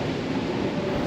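Steady, loud rumbling roar of a Toronto subway train in motion, a constant broadband hum with no breaks.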